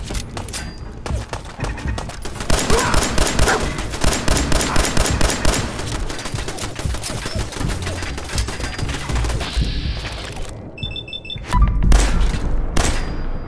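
Rapid gunfire from the video game Fallout 4, dense bursts of automatic rounds and scattered shots over a sustained run, loud and close, with a short lull before a final heavy burst.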